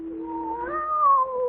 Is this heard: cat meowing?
yes